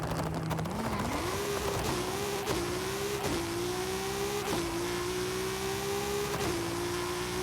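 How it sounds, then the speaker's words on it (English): A Ferrari engine in the racing game Forza revs loudly and continuously, its tone climbing and dipping through several quick gear shifts in a smooth, sustained whine. "That Ferrari sounded amazing."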